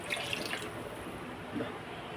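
Water pours into a cooking pot for dum biryani, a steady quiet splashing stream that fades into a gentle trickle.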